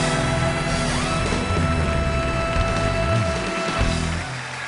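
Studio audience at a late-night talk show cheering and applauding as guest Betty White comes on, a dense, steady wash of clapping that holds throughout and drops slightly at the end over a low electrical hum.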